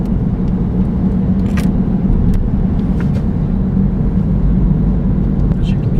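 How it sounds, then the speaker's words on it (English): Steady low road and engine hum inside a BMW F20 116d diesel hatchback cabin while driving, quiet and even throughout with no talking. "As you can hear, there's not much road noise in this car."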